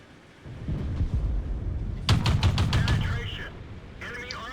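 Tank cannon shots from the video game World of Tanks, fired by a VK 16 Leopard: several sharp, rapid booming blasts close together in the middle of the clip over a rumbling battle background, with someone speaking.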